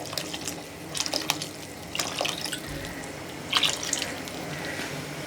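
Water poured from a glass into a pot of soaking rice for peas pulao, giving a steady close splashing and trickling with a few brief louder spills.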